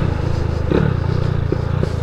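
A 160cc motorcycle fitted with an alcohol-fuelled carburetor engine and a 65.5 piston is ridden, its steady loud engine drone running continuously with slight rattles and bumps throughout.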